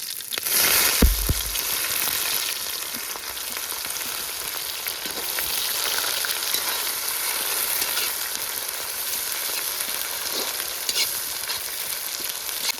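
Onions and spices fry in hot oil in a pan, making a continuous crackling sizzle with a sharp burst as they go in, then steady frying with stirring scrapes.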